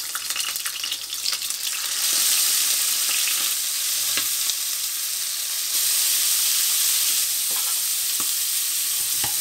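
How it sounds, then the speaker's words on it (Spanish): Squid sautéing in a large wok, a loud close sizzle and hiss of frying that swells after a couple of seconds and holds steady, with a few faint clicks and no talk. "En este wok, es más grande que la otra sartén que tenía, voy a saltear ligeramente nuestros calamares."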